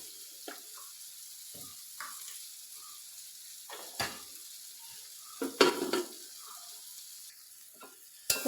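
Brinjal stir-fry with chili and onion crackling in coconut oil, a quiet, steady sizzle broken by several sharper bursts and clinks as it is stirred.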